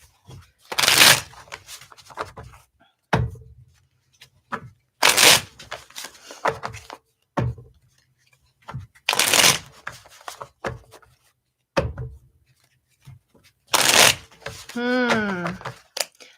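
Cards shuffled during a late-night reading: four separate bursts of close, crisp riffling and slapping, each about a second long, separated by quiet pauses with soft handling noises and brief talk between them.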